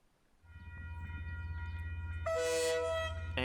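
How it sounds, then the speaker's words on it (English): A KiwiRail diesel locomotive hauling a container train in Tauranga, New Zealand, rumbles closer with a steady low engine drone, then sounds a loud, sustained two-tone horn blast near the end. "here comes DL 9129 with train MP8"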